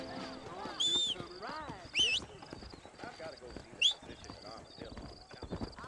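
Horse hooves clip-clopping in the video game Red Dead Redemption, a steady close trot of hoofbeats with a few sharp whinnies, while someone talks over it.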